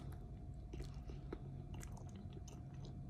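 Chewing a bite of chili dog with hot link, Super Bowl style: soft, wet mastication and faint crunching close to the mic, steady over a few seconds with no talk.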